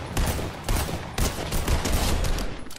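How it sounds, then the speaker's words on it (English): Rapid bursts of video game gunfire from a slow-firing in-game gun, loud and close, sounding in repeated clusters with no talk over them. "See that gun right there, that gun's fire rate is like probably the worst fire rate ever."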